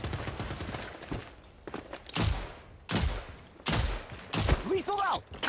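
Rifle gunfire in the shooter game Rogue Company, heavy bursts of shots recurring every second or so, close and loud, mixed with footsteps and game effects.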